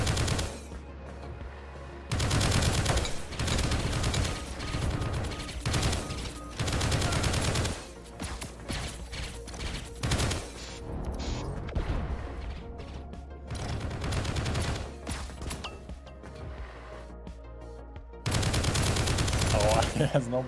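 Burst-fire gunshots from the Shadow Stalker weapon in the indie shooter Project Onyx, loud rapid clusters of shots repeating in several long bursts with brief pauses between them.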